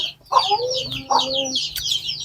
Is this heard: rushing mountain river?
no